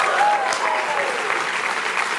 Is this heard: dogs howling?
no